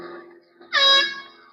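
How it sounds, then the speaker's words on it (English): Air horn honking during a homemade Doppler effect physics demonstration, a single loud, steady blast lasting about half a second over a faint background tone. "There's the air horn."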